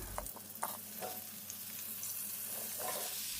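Raw mango pieces frying with salt and turmeric in a pan, a soft continuous sizzle broken by a few light scraping stirs, close and fairly quiet.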